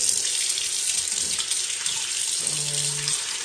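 Warm water runs steadily from a kitchen tap for mixing pizza dough, a loud continuous splashing stream filling the whole stretch with no talk.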